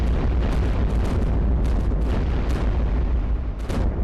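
Cannon fire in the iBomber Defense strategy game, a dense stream of booming artillery shots and explosions that keeps going for the whole stretch, loud and up close, with no voices.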